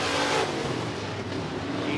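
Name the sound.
race cars at Interstate Speedway sportmod race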